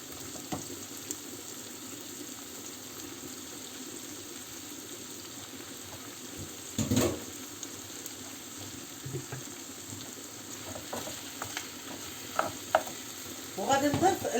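Mushrooms and sweet peppers sizzle softly in a pan over a steady low frying hiss, with occasional utensil scrapes and stirring clatter, busier toward the end.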